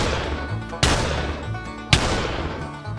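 Two sharp, loud shotgun blasts fired in a Minecraft battle, spaced about a second apart over a continuous busy game backdrop.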